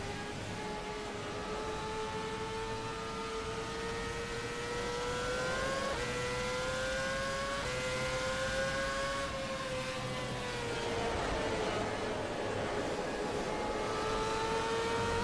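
Race car engine in a sim racing game pulling out of the pit lane, a steady mid-level drone whose pitch climbs and dips through gear changes and throttle shifts, running alone with no talk.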